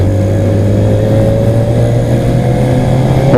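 Modenas ZX-4R motorcycle engine running steadily during a test ride, a continuous loud drone with a slowly climbing tone that rises sharply at the very end, heard close and alone with no talk.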